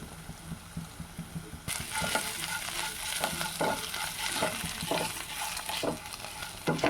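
Ground coriander and cumin sizzle as they fry in a pan for a flatbread filling of cauliflower, radish and potato, with steady frying hiss and repeated scraping stir strokes, louder after the first seconds.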